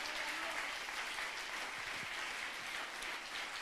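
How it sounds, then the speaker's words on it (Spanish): Applause during a church service, a steady full wash of clapping from the congregation that lasts throughout, with voices mixed in under it. "Dele un aplauso al Señor."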